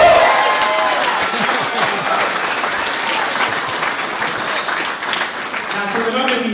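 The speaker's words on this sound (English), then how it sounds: "And can we all give a round of applause?" Sustained applause from a crowd at a speech fills the room, steady and loud throughout, with a few voices faintly audible beneath it near the end.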